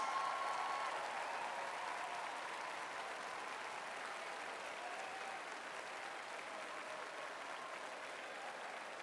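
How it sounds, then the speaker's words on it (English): Crowd at a high school graduation ceremony applauds parents and guardians, a broad steady wash of clapping from a large audience, fairly distant and slowly fading. "let's give your parents and guardians the round of applause that they deserve"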